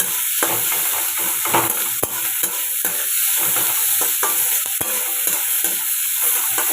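Onions for chow mein fry in a pan, giving a steady sizzle that is broken by repeated sharp scrapes and knocks of stirring, heard up close with no voices.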